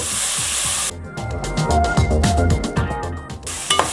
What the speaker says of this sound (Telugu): సాల్ట్ వేసుకొని హై ఫ్లేమ్ పైనే నాలుగైదు నిమిషాలు ఇట్లనే హైలో వేయించుకోండి